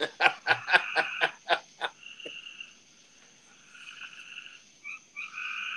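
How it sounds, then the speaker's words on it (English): A frog croaks in a quick run of about eight loud, rattling pulses, then gives softer chirping calls over a thin steady whine. "I'm sorry about the frog."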